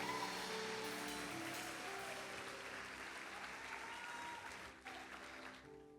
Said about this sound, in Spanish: Gracias, dele otro aplauso al Señor por eso.